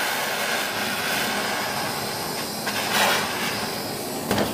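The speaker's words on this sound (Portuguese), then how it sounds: "Vou ligar novamente o maçarico" A blowtorch heating a spoon and a knife puts out a steady, close, broadband hissing roar with a few brief flares of louder rushing, and no one speaks.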